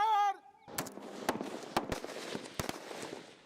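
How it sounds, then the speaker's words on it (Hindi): Gunfire during a grouping fire practice: about seven sharp, separate shots crack out at uneven intervals over a rough outdoor background. A short voice is heard just before the first shot. "Grouping fire."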